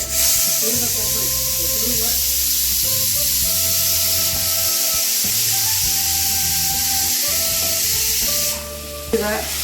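Peanut usali ingredients such as chilli and potato frying in a pan, a loud continuous sizzle and hiss close by, with stirring and a low background hum throughout.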